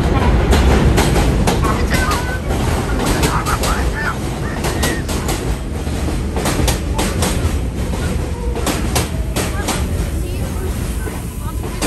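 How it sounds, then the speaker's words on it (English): A Manhattan-bound L subway train rumbles into the station, its loud, continuous roar and rhythmic wheel clatter filling the platform up close, with an announcement heard faintly beneath. "Manhattan-bound L train is now arriving."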